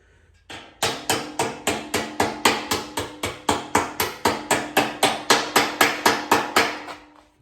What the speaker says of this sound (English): we're going to start hammering that edge over.